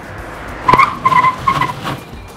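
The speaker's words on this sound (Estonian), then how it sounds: "lasen ABS-il oma tööd teha ja pidurdan. Täis pidurdus" A car brakes hard from 50 km/h with ABS engaged, as in an emergency stop for a pedestrian. Its tires squeal in a series of pulsing, stuttering bursts, loud and close, with no talking.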